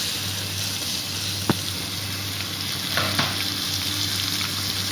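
Steady sizzling of chicken frying in a hot pan for chow mein, a constant crackling hiss with a couple of faint clinks from stirring, no voices.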